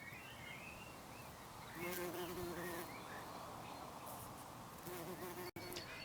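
Bees buzz softly close by, a steady hum that swells as one passes nearer, with faint outdoor ambience around it.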